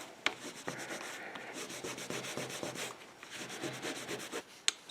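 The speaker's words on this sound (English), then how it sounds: "First I hit the table, then the leather, just to give it a little bit more of a burnish on that corner there." Layered canvas rubbed hard against the corner of a leather rune stone to burnish the edge, a steady close scrubbing rasp of quick back-and-forth strokes with a couple of sharp knocks.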